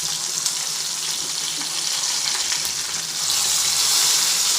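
Stuffed brinjals fry in oil with a loud, steady sizzling hiss that swells briefly louder near the end, close and uninterrupted by speech.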